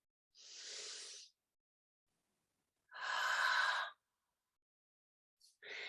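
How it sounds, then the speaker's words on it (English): Three slow, breathy exhalations squeezed through a constricted throat and vocal cords, each a hissing, raspy rush of air about a second long with quiet pauses between, close and alone. "We're squeezing a bit of breath out through this constriction in the throat and the vocal cords."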